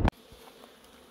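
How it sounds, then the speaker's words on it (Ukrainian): Bees hum around beehives outdoors, a faint steady buzzing after a brief loud knock at the start. "Дивіться, скільки тут бджоли."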